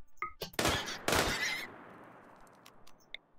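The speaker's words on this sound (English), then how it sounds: "There, keep shooting." Gunfire in the video game RimWorld: a few quick sharp shots, then a dense burst of rapid firing that trails off, followed by scattered faint pops.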